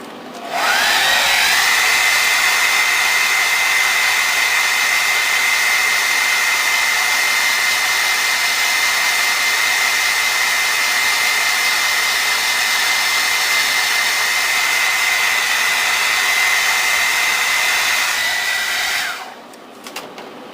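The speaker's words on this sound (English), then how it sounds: "Dryer one last time." A handheld hair dryer runs steadily at close range for nearly the whole stretch, a loud continuous whooshing roar that starts abruptly and cuts off near the end, with no talking.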